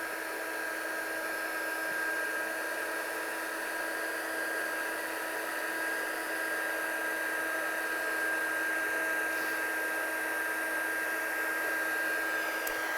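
A heat gun blows continuously to set embossing powder on a handmade card, giving a steady, even whirring hum with a faint whine that holds throughout without pause or speech.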